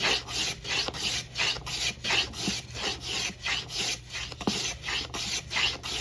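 Wooden back braces being carved down by hand, a steady rhythmic rasping as the tool is pushed back and forth about ten times, close and fairly loud, with no talking.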